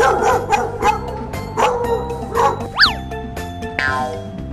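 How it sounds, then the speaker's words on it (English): Cartoon dog sound effect in a children's ABC phonics song, a series of bright yips and barks with a springy boing, played over bouncy music. "D, d, dog. D, d, dog."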